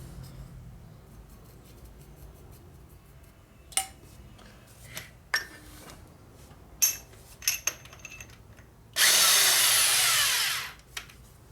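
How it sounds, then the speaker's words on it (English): A reamer cutting through the bushing of a 2001 Indian Scout 88ci big-bore S&S motor, heard as scattered metallic clicks and taps followed by a loud, close grinding burst of about two seconds near the end. "Same thing, we ream it all the way down, then we stop and come back up."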